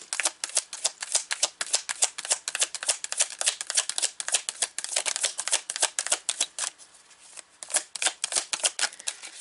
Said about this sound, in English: So let's pull some cards here.